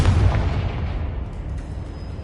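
A Confringo spell explosion in Hogwarts Legacy: a deep, loud boom at the start that decays into a rumbling tail over about two seconds, with no talking.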